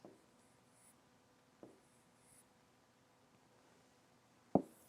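A hand writing an Arabic letter on paper gives faint, brief scratches and soft strokes in a quiet room, ending with one sharper tap; no voices.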